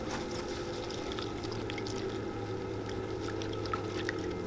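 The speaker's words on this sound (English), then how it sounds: "I'm going to go ahead and throw these into my tub of water and get these clean as well" Leather 1930s Wilson baseball cleats in a tub of water, with a steady background of sloshing and trickling water and faint scattered drips over a constant low hum, with no single clear drop.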